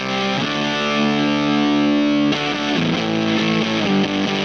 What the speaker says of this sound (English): Like fuzzy overdrive distortion.